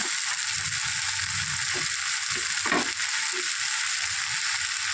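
Bitter gourd and prawns stirred in spice paste in a pan, giving a steady, moderately loud sizzle throughout, with a few soft scraping and stirring knocks on top.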